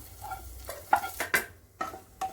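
Paneer and vegetables cooking in a pan, with a handful of distinct scraping stir strokes spaced irregularly over a soft background sizzle, close and fairly quiet, no voices.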